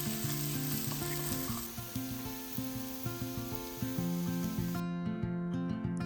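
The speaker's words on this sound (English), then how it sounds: "use about 1 tablespoon of the bacon grease to lightly fry the chives" Chopped chives lightly frying in about a tablespoon of bacon grease, a continuous crackling sizzle with occasional stirring under a steady background tune, moderately loud and close.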